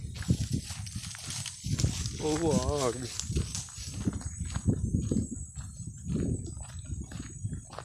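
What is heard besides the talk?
horse walking, hooves clip-clopping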